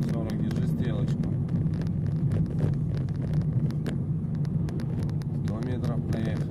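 Car engine pulling under acceleration during a driving lesson in Khabarovsk, a steady loud drone with road and wind noise throughout while an instructor and learner talk over it.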